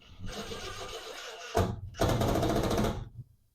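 Power screwdriver driving screws into a cargo trailer window frame during installation, two close whirring bursts, a short one then a longer sustained run of about a second.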